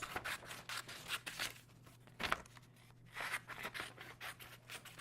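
Scissors cut through embroidery fabric near stitched stars, a close, quiet run of short snipping and crunching strokes with a faint steady hum behind, pausing briefly mid-way before the cutting resumes.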